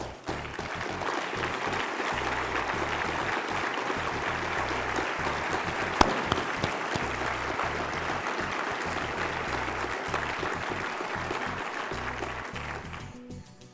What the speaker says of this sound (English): please stand up so we can give you a big round of applause